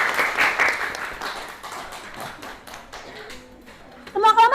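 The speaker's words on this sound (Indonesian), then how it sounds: "kita kasih aplaus untuk kelompok 1" A classroom of vocational pharmacy students applauds a student group, a burst of scattered hand claps that thins out over a few seconds before a louder flurry at the end, with voices mixed in.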